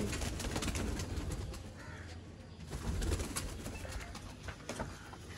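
Pigeons at a kabootar bazi loft setup in Narowal coo softly amid a dense, continuous wash of bird noise and outdoor rustle, with no voices.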